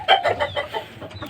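Roosters and gamefowl at a chicken farm clucking in a quick run of close, fairly loud calls, with soft background noise beneath.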